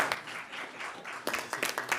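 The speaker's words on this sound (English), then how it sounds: "I think that deserves a round of applause" An audience at a government press conference in St. Kitts and Nevis gives a brief round of applause, light and scattered clapping at moderate distance.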